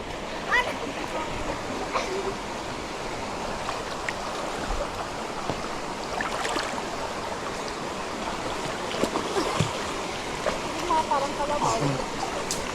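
Someone bathes in a river outdoors, with scattered splashes and rippling water stirring throughout at moderate, close range while voices talk intermittently.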